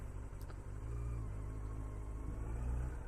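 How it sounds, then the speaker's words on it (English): A car engine rumbles steadily nearby, low and continuous, swelling slightly as the vehicle moves past. "A car's coming."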